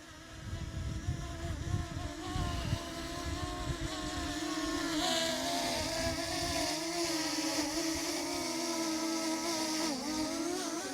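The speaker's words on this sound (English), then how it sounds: "so here's the drone. It's very windy today" A DJI Mini 2 drone hovers in strong wind, its propellers whining in a steady high buzz whose pitch wavers and swells as it gets pushed around, with wind rumble underneath and no talking.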